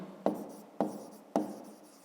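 Pen strokes on paper as a maths exercise is written down: three quiet, evenly spaced scratching taps close by, each with a short trailing rustle, with no voice.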